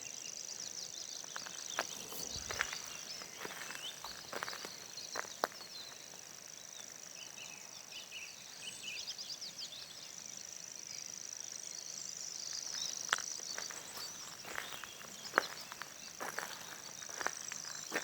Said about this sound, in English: Grasshopper warbler calling.